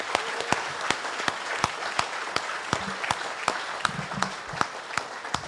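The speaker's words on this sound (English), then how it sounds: "Let's give them one round of applause." An audience at a Guam Chamber of Commerce gubernatorial forum and general membership meeting gives a round of applause. Steady, moderately loud clapping carries on throughout with many sharp, distinct claps.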